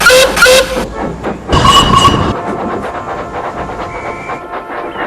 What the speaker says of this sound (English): on his way with his goods train to the canal station